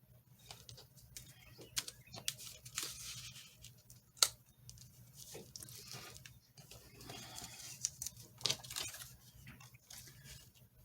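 Scissors snip through paper for autumn journal cards in quiet, irregular little cuts and rustles, close but faint, with one sharper snap partway through.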